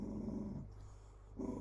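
A female dog in heat growls at a male dog, two close, low rumbling growls separated by a brief quiet gap.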